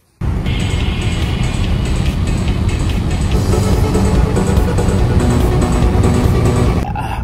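A car drives along at steady speed, a loud continuous road and engine rumble that starts abruptly and holds evenly for several seconds before dropping slightly near the end.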